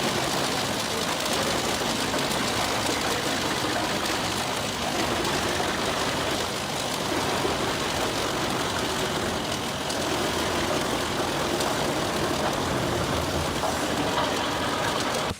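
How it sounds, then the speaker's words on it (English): Eschelbach B-Bear 110 wood chipper running as large tree trunks are fed in, a dense, steady mechanical roar that holds at a constant loud level for the whole stretch, with no talk. "Eschelbach B-Bear 110, a powerful wood chipper in action, grabbing and feeding large tree trunks into its body."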